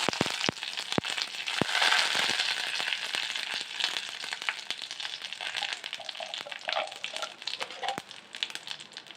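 Chilies and curry leaves crackle and spit in hot oil, a busy close sizzle with sharp pops scattered throughout.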